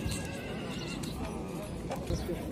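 A mare whinnies amid the steady crowd bustle of a horse market in Özgön, with hoof clops and people talking nearby.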